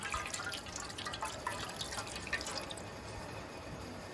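Water drips and trickles steadily for hand-washing before a village crab meal, a continuous wet splashing with faint scattered drops throughout.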